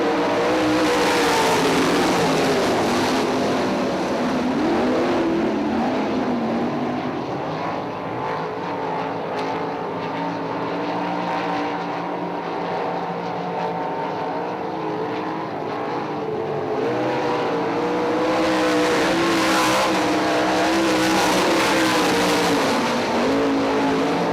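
Sprint cars racing on the I-96 Speedway dirt track at a Sprints On Dirt/NRA Invaders event, a steady loud engine roar that rises and falls as the pack passes, continuous for the whole stretch with no talk.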